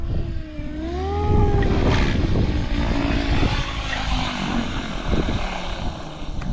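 RC helicopter motor idling during autorotation practice, a steady engine drone with a rising then falling whine, close and fairly loud throughout with wind noise.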